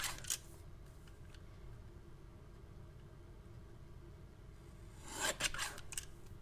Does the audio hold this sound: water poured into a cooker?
no